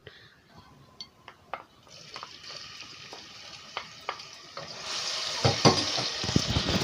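Garlic sizzles in very hot oil in a pot while liver is being cooked, with a steady frying hiss that swells louder toward the end, punctuated by sharp clinks and taps of a utensil against the pot.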